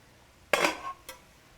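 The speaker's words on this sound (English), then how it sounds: "I'm going to give our vegetables a stir." Vegetables for fried rice stirred in a pot, giving one short scraping clatter of utensil against metal followed by a brief second clink, close and fairly quiet.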